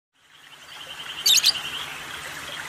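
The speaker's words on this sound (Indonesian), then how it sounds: "Burung lovebird." A pet lovebird, an African parrot popular with Indonesian bird keepers, gives a couple of sharp, loud chirps over a steady background hiss, with no voices.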